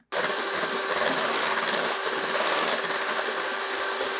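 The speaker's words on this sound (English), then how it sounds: "And to that, I'm going to add the 2 egg yolks. And we're going to beat the egg yolks in." A kitchen mixer beats egg yolks into a dairy-free keto pumpkin pie filling, giving a steady, loud, unbroken whir that runs for about four seconds with no voices.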